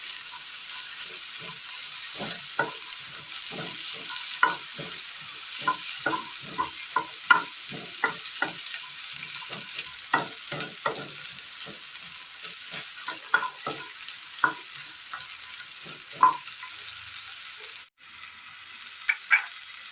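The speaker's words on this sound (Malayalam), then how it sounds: "സബോള അരിഞ്ഞത്, ജസ്റ്റ് ഒന്ന് വാട്ടിയെടുക്കണം." Chopped onion with eggplant sautés in a pan for a Kerala curry, a steady sizzle under irregular spatula scrapes and taps, close up and without speech.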